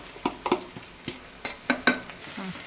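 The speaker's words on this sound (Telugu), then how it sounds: "మన మెయిన్ ఇంగ్రీడియంట్ బీరకాయని ఇందులో వేయాలి." Chopped ridge gourd tipped into a pan with fried ginger-garlic paste and stirred, a metal spoon scraping and clinking against the pan in irregular strokes over a soft sizzle.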